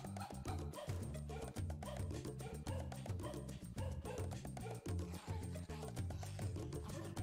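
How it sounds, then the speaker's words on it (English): Angry dog barking from the PS2 game We Love Katamari, repeated yips and bow-wows mixed into a loud, busy musical soundtrack that plays continuously throughout. "Oh, that dog's mad."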